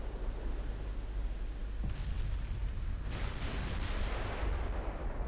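Heavy 18-inch naval guns booming in the naval warfare game Ultimate Admiral Dreadnoughts, a rumbling roar of distant shellfire and impacts layered into a continuous, loud low-frequency wash.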